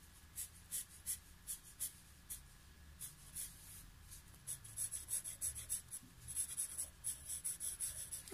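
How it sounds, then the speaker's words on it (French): A pencil colours a shadow in black on paper for a rhinoceros drawing, giving soft close scratchy strokes in a repeated back-and-forth rhythm that grows denser and quicker, with no talk. "donc on va la colorier en noir"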